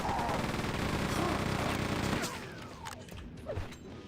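Rapid machine-gun fire from Gunner enemies in Quake 2, a sustained mechanical clatter of shots for about two seconds that gives way to scattered impacts and clanks, moderately faint with no voices.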